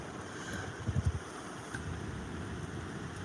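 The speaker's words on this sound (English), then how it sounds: "There's the sound of waves." Sea waves and wind on a fishing boat on a calm night, heard as a steady low wash of water and wind noise with a brief cluster of soft thumps near the start.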